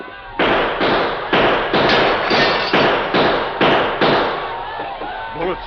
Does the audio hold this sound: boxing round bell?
no